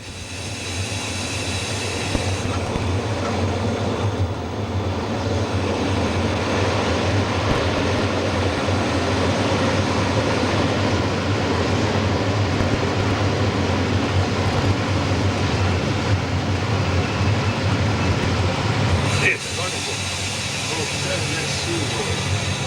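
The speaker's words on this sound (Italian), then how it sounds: "Il nostro treno diretto 1176 si ferma ora alla stazione di Pontebba" Diretto train 1176 on the Udine–Tarvisio line rumbles steadily through a cab ride into Pontebba station, its broad, loud running noise holding constant before a slight drop near the end as it comes to a stop.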